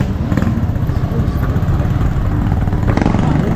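Motorcycle engine with a felt mechanical problem, ridden through Caloocan City, a steady loud drone with low rumbling throughout and faint voices underneath.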